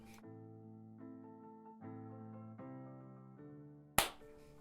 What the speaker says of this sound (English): sorry for the loud clap